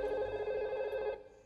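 A telephone rings steadily and fairly loudly for over a second, its tone holding before cutting off near the end, with no voices over it.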